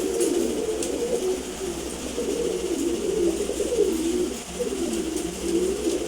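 A home-bred male pigeon coos in a series of low, rolling, repeated calls, close and clear over faint background hiss.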